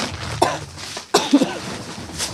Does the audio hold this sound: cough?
yes